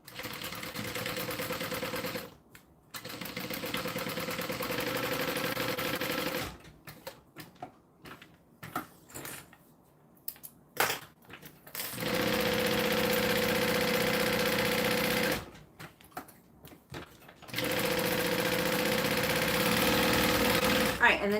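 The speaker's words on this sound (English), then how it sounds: "now I'm going to sew down, across, and then back up" A sewing machine stitching fabric for a bag, running in long steady bursts of rapid mechanical whirring separated by short pauses and quieter handling noises.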